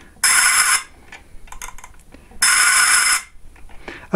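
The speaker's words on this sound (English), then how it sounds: "It's an awful noise, but that is the noise of lasers in the 70s." Two harsh, buzzing electronic bursts from a 1970s Buck Rogers Laserscope fighter toy's laser noise mechanism, each lasting about half a second, separated by a pause. The raspy hiss is loud and close.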